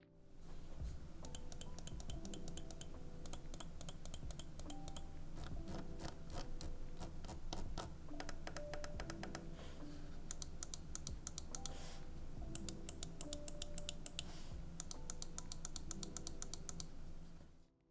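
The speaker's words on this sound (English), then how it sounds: "I will do a sound test for you guys so you can hear how these clicks sound." A Pwnage X BLG StormBreaker magnesium gaming mouse clicks in quick bursts of sharp, light taps, with short pauses between the rapid clusters, heard up close and quiet.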